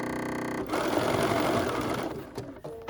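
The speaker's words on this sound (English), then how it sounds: "Now I'm going to lower my presser foot, and I'm stitching my cute little reindeer at face value." A sewing machine stitches a small reindeer design onto a holiday pillow cover, its rapid steady needle hum starting after a brief lead-in, running close and loud, then slowing and stopping near the end.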